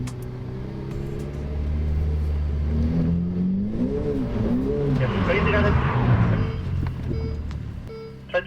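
Ferrari F8 Tributo engine blipped with on-off throttle: a sustained idle that rises into several wavering revs, surging and dropping in quick succession, heard close with a brief sharp knock at the end.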